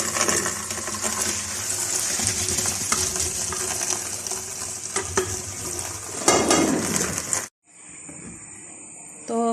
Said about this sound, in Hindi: प्रेशर कुकर को भी अच्छी तरह से दोबारा से वॉश करेंगे